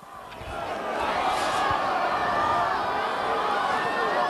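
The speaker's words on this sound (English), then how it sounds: "Well, now that's ignited the crowd." A football crowd roars after a goal at a 1996 match, swelling from a murmur into a loud, sustained, distant-sounding cheer with shouts and whistles mixed in.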